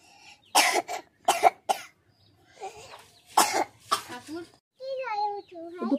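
A few sharp coughs from someone about to recite a poem come in bursts, close and fairly loud, with a brief stretch of speech-like voice near the end.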